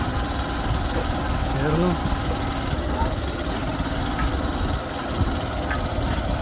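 A motorcycle engine runs at a steady mid-pitched drone while ridden over a rough rural road past ripe paddy fields, the rumble continuous and close, with a person talking over it.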